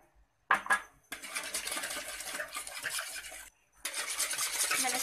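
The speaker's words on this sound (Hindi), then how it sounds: "उसके नाम मैं ये अंडा डालूंगी और इसको अच्छे से व्हिस्क करूंगी" An egg is whisked in a bowl: after a couple of clinks, a rapid, steady scraping whir runs continuously, pauses briefly, then resumes, close up with no voices.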